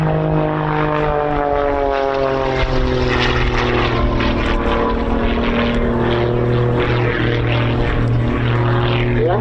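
Propeller aerobatic aircraft at an air show, climbing straight up under full power: a loud, sustained engine drone with steady harmonic tones and slowly shifting pitch, continuous and close.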